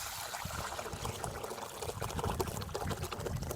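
Tamarind extract is poured into a pot of tomato and onion rasam, giving a soft, steady liquid pour and trickle that stays fairly quiet and continuous throughout.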